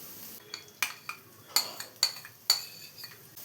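Ingredients with egg yolk being mixed in a pan, a series of sharp spoon-on-metal clinks and scrapes at irregular half-second intervals, close and quiet, with a faint background hiss between strokes.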